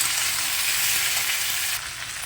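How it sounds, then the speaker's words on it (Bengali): Potatoes fry with salt and tomato in a pan for aloo posto, giving a dense, steady sizzling hiss that drops away sharply near the end; no one speaks. "আলুটাকে আমি খুব ভালো করে ভেজে নেবো"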